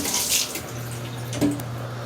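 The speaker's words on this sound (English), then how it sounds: "And that's gonna rinse my clothes off." Water pours and splashes steadily inside a portable washing machine rinsing clothes, a continuous close rushing with a low hum underneath.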